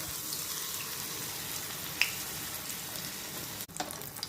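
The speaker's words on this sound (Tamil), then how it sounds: "1 கரண்டி மாவு எடுத்து அப்படி விட்டுருங்க" Nei appam batter fries in hot oil in a kadai with a steady, close, bright sizzling hiss. A small pop stands out midway and a brief clatter comes near the end, with no voices.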